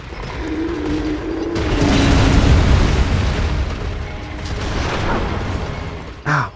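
A gunshot strikes the player in Bloodborne, a loud booming burst with a long rumbling tail and heavy low-end impact, followed by a short sharp hit near the end, with no speech.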